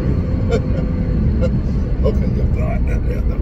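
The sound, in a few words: 2014 Nissan GT-R accelerating on the highway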